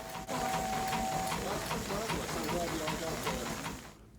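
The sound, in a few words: steam-powered generator running at train museum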